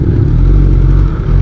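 A Kawasaki ZX10R motorcycle in Thailand rumbles with a loud, steady low exhaust drone, holding close and continuous with no talk.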